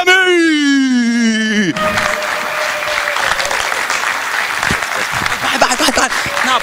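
Festival audience applause welcoming actor, writer and comedian Osamah Sami bursts in right after a loud sustained voice and continues as steady, lively clapping with some crowd noise.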